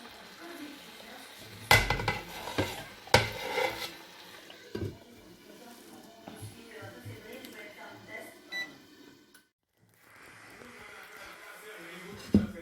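Shakshuka cooking in a pan on the stove, with a spoon clanking and scraping the pan now and then and faint sizzling, while a person talks over it.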